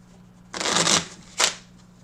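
Two decks of new playing cards shuffled by hand, a loud riffle burst of about half a second followed shortly by a second, shorter riffle, close up with no talk.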